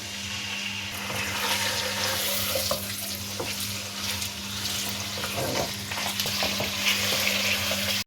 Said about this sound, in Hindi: इसमें 700 ग्राम के करीब चिकन उसमें शामिल करें और चिकन को फ्राई कर लें।